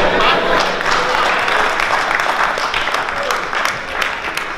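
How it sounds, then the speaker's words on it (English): A few scattered claps from a small number of audience members at a lecture, thin and sparse, with a murmuring crowd and some talk underneath. "3 people applaud"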